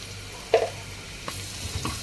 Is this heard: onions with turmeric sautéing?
yes